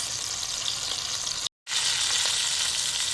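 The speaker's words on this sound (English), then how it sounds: "I'm going to try to get a sear on the sides." Pot roast beef sears on its sides in a hot Dutch oven, giving a steady, loud, close sizzle that breaks off for an instant midway, then resumes just as strongly.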